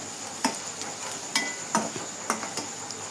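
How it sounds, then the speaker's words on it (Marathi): Ground masala paste being stir-fried in oil, a low steady sizzle close by, broken by a handful of sharp spoon knocks against the pan at irregular intervals. "हे छान तेलामध्ये आपल्याला भाजून घ्यायचं आहे।"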